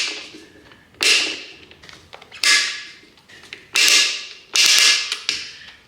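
Torque wrench tightening the controller bolts on a Surron LBX electric dirt bike to 39 inch-pounds, heard as four loud creaking mechanical bursts, each about a second long, with quieter clicking in the gaps and no talk.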